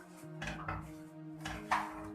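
Metal utensil scraping and clinking against a pan in a few brief strokes, close by, with a low steady hum underneath, stirring tamarind chutney with red chili powder, salt, crushed red chili and sugar.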